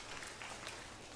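A primary school formal assembly gives a round of applause, a soft, dense patter of many hands heard at a low level.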